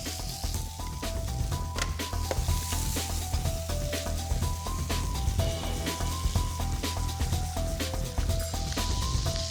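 Lamb pieces sear in a hot pan with butter, giving a steady, loud, close sizzle that crackles on without a break, while a melody plays underneath.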